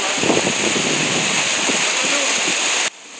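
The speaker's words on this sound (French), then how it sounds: "il y a le ruisseau de surface qui tombe en une énorme cascade" Surface stream plunging in a huge cascade at a resurgence, a loud continuous rushing roar of falling water close to the microphone, with muffled voices underneath, cutting off sharply near the end.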